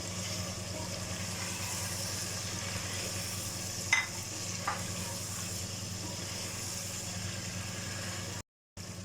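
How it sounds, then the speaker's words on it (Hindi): Chicken pieces frying and being stirred in a pot with roasted potatoes for chicken pulao, a steady low sizzle throughout with a couple of brief scraping knocks near the middle. "अब इस चिकन का कलर चेंज होने तक इसकी भुनाई कर लेंगे।"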